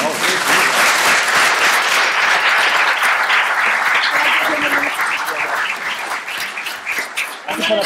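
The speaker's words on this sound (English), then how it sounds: "Give them a round of applause." Audience at a township council meeting breaks into loud, sustained applause, dense clapping that holds steady and then tapers slightly near the end, with some voices faintly underneath.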